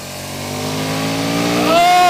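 KTM Super Duke 1290 R motorcycle accelerating hard, a loud, close engine note climbing steadily in pitch as the throttle opens, rising to a high scream at the end.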